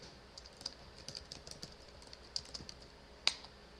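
Typing on a computer keyboard while entering a street address, a quiet run of light, irregular key clicks with one sharper tap near the end.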